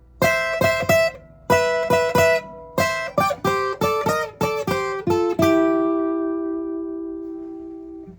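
A clean electric guitar plays a double-stop lick in fourths, plucked two-note chords in a bouncy rhythm, ending on a held chord that rings out and slowly fades.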